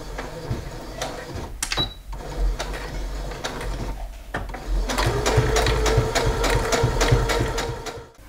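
A sewing machine stitches the hem of a baby skirt in steady, close bursts of rapid mechanical chatter, pausing briefly twice before running continuously to the end.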